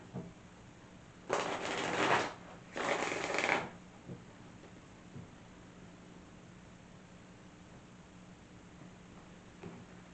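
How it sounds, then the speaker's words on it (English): Tarot cards are shuffled in two brisk, close riffling bursts of about a second each, followed by near silence. "One more shuffle."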